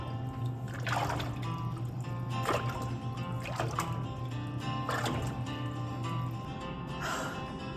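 Bare hands splashing and sloshing water in a kitchen, a series of soft watery splashes repeating every second or so over a faint background hum, close but fairly quiet.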